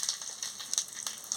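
Cumin seeds sizzle in hot oil in a pan, a close, crackling hiss with scattered pops throughout a short stretch and no talking.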